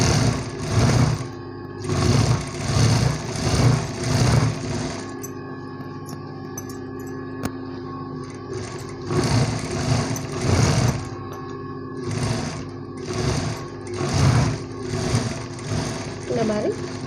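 Sewing machine stitching a blouse, running in repeated short bursts of rapid mechanical whirring separated by pauses, with someone talking over and between the runs.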